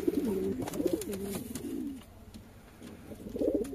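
Domestic pigeons in a loft, a female among males, give repeated soft throaty coos in rolling bursts, close and clear, with a short quieter gap before more cooing.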